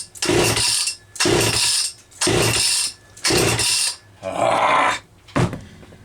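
A Homelite Super XL-925 chainsaw engine on a cold morning, appearing flooded, is pull-cranked repeatedly, with five loud rasping bursts in a regular rhythm and a final shorter pull, close up.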